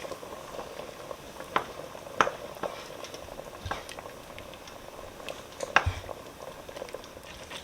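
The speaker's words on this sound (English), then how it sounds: "it's going to simmer to 10 to 15 minutes until the spaghetti is done" One-pot pumpkin spaghetti simmering in a pot, with a quiet steady bubbling and a few sharper pops and splats scattered throughout.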